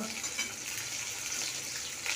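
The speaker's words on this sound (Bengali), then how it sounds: "দেখো এখন মাছ ভাজা হচ্ছে" Fish frying in oil in a home kitchen pan, a steady, dense sizzle that holds constant throughout at moderate loudness with no talking.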